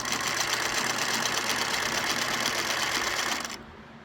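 Sewing machine stitching a seam on an upcycled skirt, a steady fast whirring drone that runs continuously and stops abruptly near the end.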